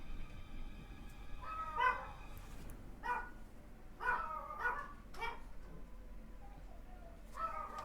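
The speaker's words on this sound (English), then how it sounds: "War dogs are in full effect." War dogs in the action game Wo Long: Fallen Dynasty let out a string of sharp, separate barks and yips at mid distance over a low game background hum, with no one talking.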